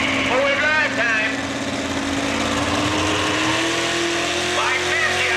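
A four-wheel drive truck roars at a truck and tractor pull, the engine revving in a loud, continuous rising and falling whine with gear-like pitch sweeps, while crowd noise and an announcer's voice sit underneath.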